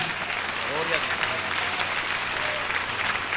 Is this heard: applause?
yes